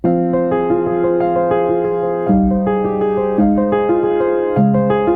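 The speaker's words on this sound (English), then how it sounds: "because the piano really sounds like this." Bright, full acoustic piano chords ringing with rich overtones, several sustained chord changes played clearly and loudly with no voices.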